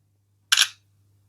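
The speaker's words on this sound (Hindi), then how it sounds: "तो एक पिक्चर में क्लिक कर लेता हूँ।" A single short shutter click from the 50-megapixel rear camera of an Oppo A38 phone as it takes a picture. The click is crisp and close, and it is heard alone in silence.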